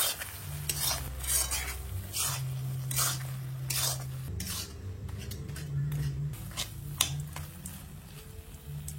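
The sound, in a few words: lid lifted and vegetables stirred in a cooking pot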